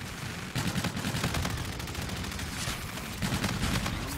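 Continuous video game gunfire, dense rapid bursts like automatic weapons, loud and close, with brief lulls between volleys and no talking.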